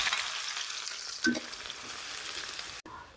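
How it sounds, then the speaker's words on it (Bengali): Chopped onion frying with dried red chillies in a pan for chana bhuna, a soft, steady sizzle with a brief clatter of a utensil midway and a sharp click near the end. "শুকনা মরিচটা আমার বাজা হয়ে গেছে এখন আমি পেঁয়াজ কুচি দিলে দিলাম"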